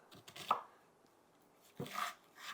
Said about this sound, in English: then I'm just going to run my knife through for big chunks.